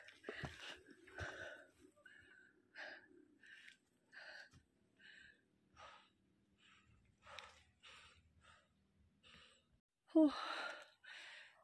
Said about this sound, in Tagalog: Hingal na talaga ako.